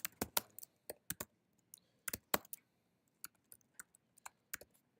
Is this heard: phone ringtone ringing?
no